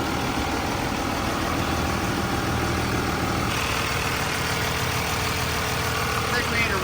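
A 2nd Gen Cummins diesel engine idles steadily after its first startup, a loud, continuous low rumble with a faint clatter from the valves, holding constant throughout with no speech.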